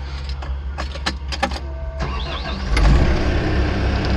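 A bucket machine's engine revs up as more throttle is given, a steady low mid-range drone that swells louder near the end, with scattered clicks and rattles over it and a brief rising whine in the middle.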